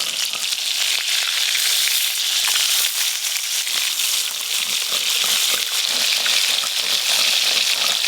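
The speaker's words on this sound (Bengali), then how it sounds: "মাছগুলো হালকা করে ভেজে নিয়েছি, তুলে নেব।" Hilsa fish pieces fry in hot oil, a loud, dense, unbroken crackling sizzle lasting throughout with no speech.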